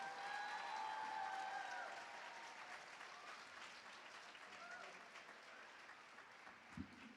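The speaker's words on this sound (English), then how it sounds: "I think we need to have a round of applause for our muse." Faint applause from a live Model UN audience in New York, a steady wash of distant clapping that lingers for several seconds beneath a sustained tone at the start.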